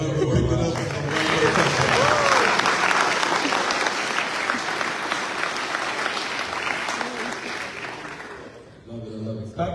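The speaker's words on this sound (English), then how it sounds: "Clap it up for it." Applause fills a Navy retirement ceremony, a dense, fairly close burst of clapping that swells early and then slowly thins out toward the end, with a voice speaking briefly at the start and again as it fades.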